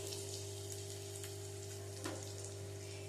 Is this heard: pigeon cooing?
no